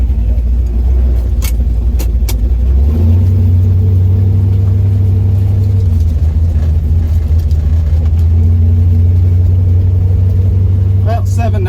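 A hot rod drag car runs at Onondaga Dragstrip, a loud, close engine droning steadily and stepping up in pitch as it climbs to the rev limiter and holds there.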